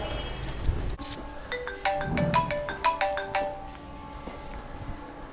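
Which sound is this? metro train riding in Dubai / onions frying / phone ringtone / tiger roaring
phone ringtone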